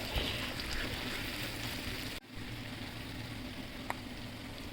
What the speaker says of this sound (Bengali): সি ফুডগুলো দেওয়ার পরে হালকা করে একটুখানি ভেজে নিব